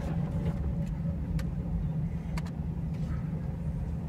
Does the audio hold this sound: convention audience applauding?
no